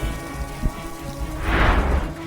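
Heavy rain pours down in Gujarat's Amreli district, a loud steady wash of drops that swells stronger toward the end, with no voices.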